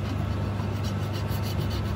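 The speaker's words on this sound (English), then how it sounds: "I'm just cleaning up the face of the sump plate" Continuous rough scraping of a new Stanley utility blade across the face of a Porsche 997 sump plate, steady and close, with a low hum running underneath in a garage.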